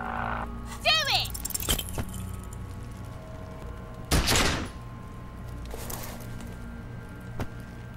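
An explosion in the video game Disco Elysium comes as one short, sharp blast midway through, set against a low ambient hum and scattered smaller sounds.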